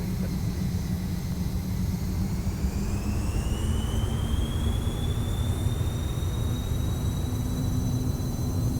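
Citation CJ4 jet engines held at takeoff power in a flight simulator, a steady, loud roar with a whining tone that climbs in pitch partway through, continuous and unbroken with no talk.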